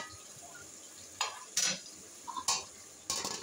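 Flat beans being stir-fried with spices in a pan, a quiet background with a few sharp scraping and stirring bursts of a spatula against the pan, spaced irregularly.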